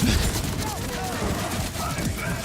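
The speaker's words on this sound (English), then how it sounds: "I just shoot one, and then the ricochets take care of everybody else" Rapid, dense gunfire with ricocheting shots in the shooter game Borderlands 4, played as the Rafa character, sounds as a loud continuous barrage with a voice speaking over it.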